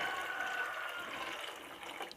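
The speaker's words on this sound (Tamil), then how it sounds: "நான் வந்து அரிசி கலந்த தண்ணி சேர்த்துக்கிறேன்." Rice-rinsing water is poured into a Tamil-style koduva (barramundi) fish curry, giving a steady, soft splashing liquid pour that runs close and continuous for about two seconds, with no one talking.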